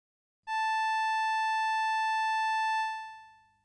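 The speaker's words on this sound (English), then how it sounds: "this is the raw sound of Strike FET's oscillators" A steady, bright tone from a Waldorf Streichfett string synthesizer's raw oscillators, with rich harmonics, holds for about two and a half seconds, then fades out; no voices.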